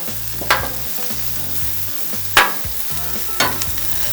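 Onions and vegetables stir-fry on a hot griddle, a close, even sizzle punctuated by three sharp scrapes and taps of a spatula at irregular intervals, with no speech.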